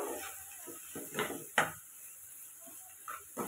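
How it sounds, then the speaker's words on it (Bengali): Shrimp sautéed with turmeric and sugar in a pan, with soft sizzling and a few sharp clinks and scrapes of a spoon stirring against the metal, close and brief. "আর হলুদ দিয়ে আমি একটু কষিয়ে নেব 2 মিনিট মতো"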